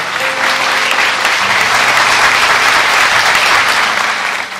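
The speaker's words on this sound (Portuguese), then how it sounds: "Uma grande salva de palmas para o Senhor." A church congregation gives loud, sustained applause that fills the room as one dense wash of clapping from start to finish.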